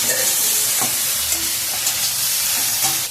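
Okra and potatoes sizzle loudly in a pan as they are fried and stirred, a constant hissing fry broken by a few scraping stirs of the spatula, with no one talking.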